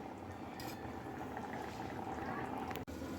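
Coconut paste curry with mola fish simmers in a pot, giving a steady, soft bubbling and hiss that runs evenly throughout with a brief faint clink near the end.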